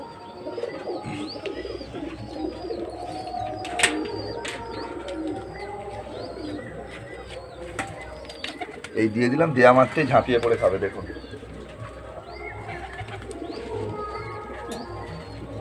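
Adult pigeons kept in a loft coo softly among scattered chirps and flutters while being fed, with someone talking nearby over them.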